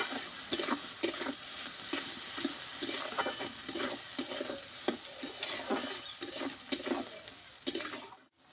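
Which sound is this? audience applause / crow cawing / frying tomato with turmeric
frying tomato with turmeric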